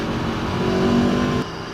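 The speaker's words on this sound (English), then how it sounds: "oh my god, that sound! It's a stock exhaust." Stock exhaust of a 2017 Aprilia Tuono Factory motorcycle roaring steadily up close, a loud continuous engine drone that cuts off abruptly near the end.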